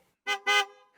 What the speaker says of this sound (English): And this is what the horn sounds like.